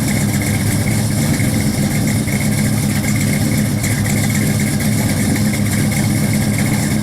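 A 1970 Plymouth Duster with a 340 V8 idles steadily, a loud, close, continuous low rumble with no talk over it.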